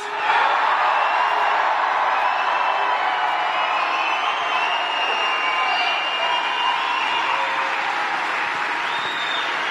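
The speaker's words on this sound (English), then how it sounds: "Let's give him a round of applause." Large political rally crowd in Juneau, Wisconsin applauding and cheering, a loud dense wash of clapping and shouts sustained for about ten seconds with occasional whoops rising above it.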